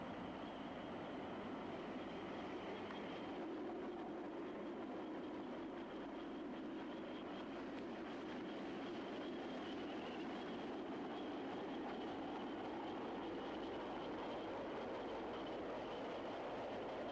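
Steam locomotive 6960 on a mainline outing with a train of coaches rolls past, a steady broad rumble and rail roar holding evenly loud and close throughout, with no voices.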